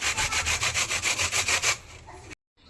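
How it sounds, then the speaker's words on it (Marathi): Vegetables such as capsicum are grated by hand for uttapam, giving about a dozen quick rhythmic rasping strokes close by before the scraping slows and stops, with no talking. "शिमला मिरची याला पण असं किसून घ्यायचं"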